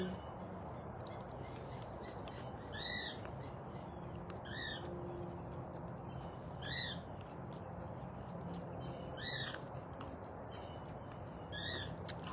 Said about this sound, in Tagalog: Grabe yung yung mga ibon doon mga kaibigan.